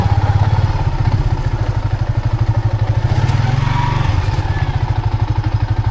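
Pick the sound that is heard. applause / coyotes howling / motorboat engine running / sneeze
motorboat engine running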